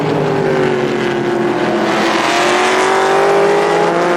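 A V8 race car at the 2002 Grand Am Cup in California roars loudly and continuously, its engine tone rising as it accelerates off a corner into the infield.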